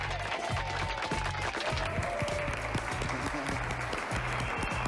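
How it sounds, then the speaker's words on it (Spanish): Audience applause for a performer at a kids' news show event, dense continuous clapping filling the whole stretch with crowd noise beneath. "todos un aplauso para Pepe."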